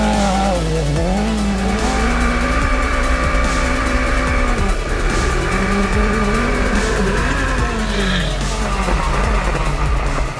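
An off-road car driven hard through the desert by a first-time driver, its engine revving and dropping continuously while the tires skid and scrabble through dirt, loud and close throughout.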